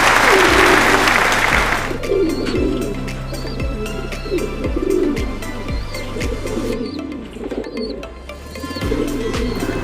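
Racing pigeons arrive at a loft after a training flight from Tarlac City to Guimba, Nueva Ecija, with flapping and landing bursts, clear bird calls and soft cooing close by over steady background noise.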